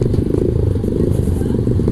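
Motorcycles rev loudly nearby on a cross ride through a village near a ravine, with a dense, rumbling, continuous engine roar and rattling clatter throughout.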